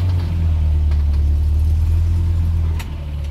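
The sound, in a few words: car accelerating gently, gas pressed slowly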